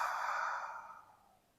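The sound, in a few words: audible exhale during guided breathing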